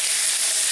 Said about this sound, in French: on est en train de cuire notre steak d'espadon